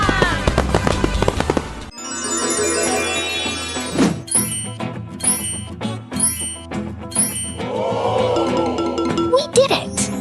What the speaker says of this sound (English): Fireworks for a job well done!